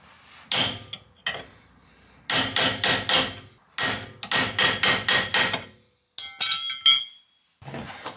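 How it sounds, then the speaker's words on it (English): Repeated sharp metallic hammer blows on the end of a crowbar ring out in quick bursts at a Subaru WRX wheel, several strikes clustered together with brief pauses between groups, loud and close. "smack the other end of it with a hammer"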